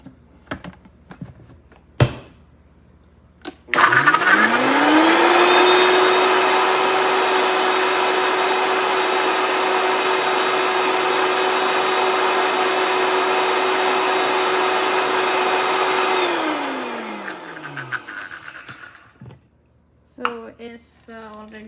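A blender whirs steadily for about twelve seconds, blending garlic with extra virgin olive oil for pesto, spinning up sharply, holding a loud even drone, then winding down, with small clicks before and after.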